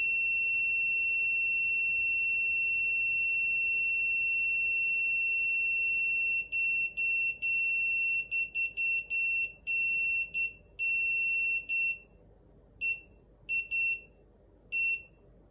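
A SARCTRAC Mk2 3D sensor sounds a steady high-pitched electronic tone during calibration, which then breaks into rapid irregular beeps and bursts before fading toward silence, with no talk.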